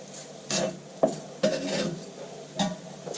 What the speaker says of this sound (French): Alors, je mélange de nouveau.